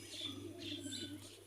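Soft, continuous pigeon cooing in the background, likely from a loft of Sialkoti pigeons, a low murmuring drone with faint chirps layered over it.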